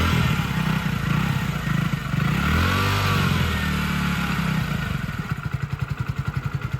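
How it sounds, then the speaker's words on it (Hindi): A Hero Splendor motorcycle engine idles and revs, a throaty exhaust rumble that rises and settles, then breaks into a fast, even putter near the end. "तो स्वीट सा एग्जॉस्ट नॉट है, ना ज़्यादा लाउड है"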